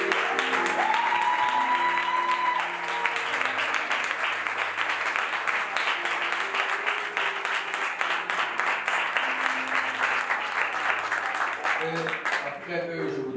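A church congregation at a worship celebration service applauds the worship group, sustained dense clapping that fills the room at steady volume for several seconds while voices and a sung note rise above it.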